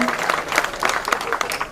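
Applause for Future Pillars at an organization office grand opening: uneven clapping from a small crowd, brief and moderately loud.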